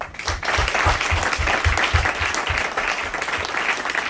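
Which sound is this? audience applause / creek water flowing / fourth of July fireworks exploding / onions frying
audience applause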